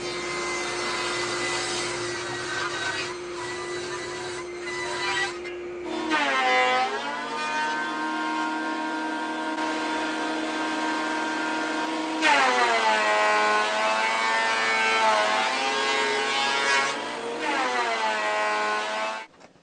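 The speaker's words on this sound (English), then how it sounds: "These big planer shavings sure fill up a dust collector fast." A thickness planer feeds lumber for a bed frame while a dust collector runs, giving a loud, steady mechanical whine with harmonic pitch changes as each board enters and leaves the cutter. It runs continuously with no talking.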